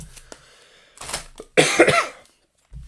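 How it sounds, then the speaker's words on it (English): Someone coughs close up: a few rough, throaty coughs in a quick cluster, then quiet. "Apologise if I'm coughing on the way through this"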